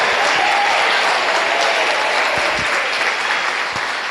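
Church congregation applauding during a worship service, a dense, loud, sustained wash of clapping from many hands that holds steady throughout without talk over it.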